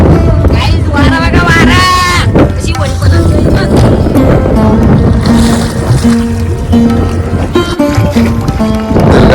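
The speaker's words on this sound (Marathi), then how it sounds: "खूप वारा सुटलेला इकडे" Strong wind roars and buffets continuously and loudly, with voices talking faintly beneath the rushing noise.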